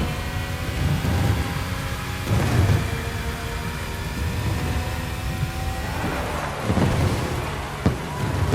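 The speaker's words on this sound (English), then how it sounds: "It's raining." Steady rain hisses throughout in the racing game The Crew Motorfest while several low thunder rumbles roll in, a couple of them sharper, with an engine-like drone underneath.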